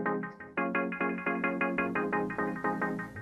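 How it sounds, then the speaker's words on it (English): A synth pad rises in a drum-and-bass studio production, entering under a repeating pulsing chord pattern that grows fuller across a few seconds, loud and without voices. "you've got another pad that comes in as well"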